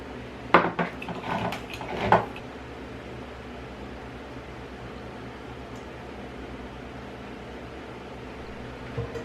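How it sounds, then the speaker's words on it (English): A spoon stirs canned condensed milk into tres leches cake batter in a bowl, a few quick clinks and scrapes against the bowl early on, then quiet room tone. "Give it a good stir till it's equally combined"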